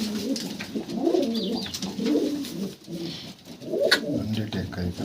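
Pigeons cooing in a loft kept by a veteran pigeon fancier, repeated soft rolling coos from several birds overlapping steadily throughout, fairly close, with a few faint higher chirps and no clear talk.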